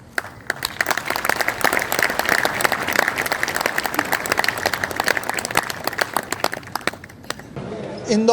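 A crowd at an award ceremony applauds Indore, named India's cleanest city for the seventh time, with sustained, close clapping from many hands and a little chatter mixed in before it drops to murmuring.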